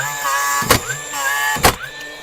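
A DeWALT DCN660N cordless second-fix nail gun struggling to fire while jammed, its motor whirring and winding up in two spins, each ending in a sharp mechanical clack, close and loud.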